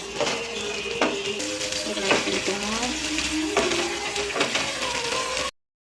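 A fish dish is stirred in a hot pan, with a continuous sizzle of frying broken by sharp scrapes and clinks of the utensil against the metal, close up and without talk.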